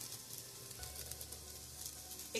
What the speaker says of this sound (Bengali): লঙ্কার পেঁয়াজ একটু ভালো করে ভাজা ভাজা করে নিয়ে